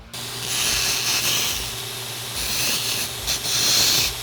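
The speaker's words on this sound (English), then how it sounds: "Take it back to the belt sander real quick and just chamfer the ends." A belt sander chamfering the ends of knife handle pins, a loud steady whooshing grind that surges and eases as the pins are pressed to the belt, with no talking.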